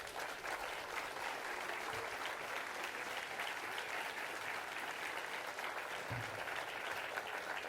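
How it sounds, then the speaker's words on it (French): Steady, dense applause from an audience at a political rally in Charleroi fills the whole stretch, even and sustained with no voices above it. "je vous demande de les applaudir chaleureusement"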